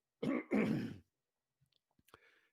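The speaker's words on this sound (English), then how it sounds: "I'm going to clear my throat." Two harsh throat-clearing bursts close to the microphone, followed by a few faint, scattered small sounds in near silence.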